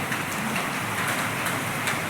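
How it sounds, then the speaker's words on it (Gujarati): Heavy rain pours steadily outside a clinic entrance where floodwater has collected, a dense, continuous hiss of drops hitting surfaces and water, loud and even throughout with no voices. "કેટલો બધો વરસાદ પડે છે"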